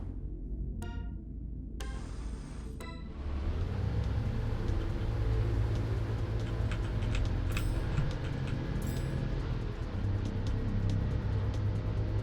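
Kart racing in the MiSide minigame, a video game: a steady engine drone starts after a few beeps and short countdown tones, holding on with small clicks and chimes on top, no talking.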